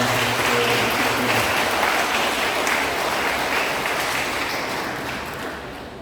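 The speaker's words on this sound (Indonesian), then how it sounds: "Kita berikan tepuk tangan untuk Romo" Warm applause from a congregation at a farewell-and-welcome Mass for a priest, many hands clapping at once, loudest at the start and gradually thinning toward the end.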